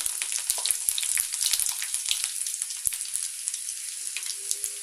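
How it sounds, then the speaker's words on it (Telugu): Crushed garlic frying in hot oil with mustard seeds, cumin and fenugreek for a village-style dried fish curry, a steady close sizzle with scattered pops and crackles throughout, no talking. "కొద్దిగా దంచిన వెల్లుల్లి వేసుకుందామండి."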